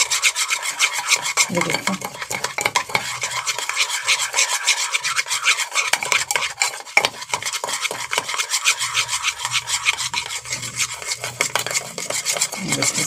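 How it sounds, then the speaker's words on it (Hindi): A spoon is whisked rapidly against a cup of coffee, sugar and water being beaten for cappuccino, giving a steady, close scraping rasp throughout, with a brief voice near the start. "बस इस तरह आप चम्मच चलाते रहें इसको।"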